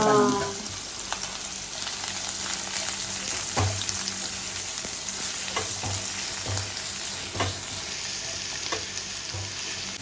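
Food shallow frying in a pan sizzles continuously, with occasional soft stirring scrapes and knocks over the constant crackle, and no talking.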